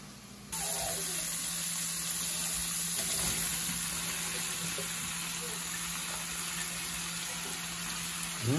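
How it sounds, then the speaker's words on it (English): Steady crackling sizzle of meat tips frying in a hot pan, constant and close, with a faint hum underneath. "And it's frying away"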